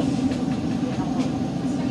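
A train pulls into Reggio Calabria Aeroporto station with a steady low rumble and rail hum, running continuously and fairly loud, while people chat faintly nearby.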